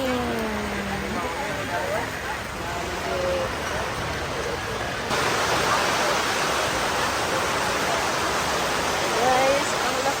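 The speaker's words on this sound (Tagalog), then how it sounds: "Guys, it's raining." Heavy rain in Davao pours down as a dense, continuous hiss that swells louder halfway through, with people talking faintly underneath.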